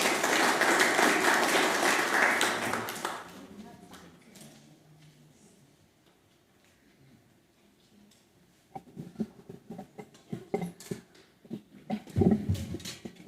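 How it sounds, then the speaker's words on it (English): An audience gives volunteers a round of applause: a loud burst of clapping lasting about three seconds that dies away into quiet. Scattered taps and movement sounds follow. "Give our volunteers a round of applause"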